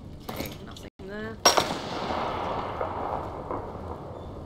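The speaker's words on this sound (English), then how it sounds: "Sniper shot me." A single sharp sniper gunshot rings out in the war survival video game This War of Mine, a loud crack followed by a long echoing tail, with brief game sounds just before it.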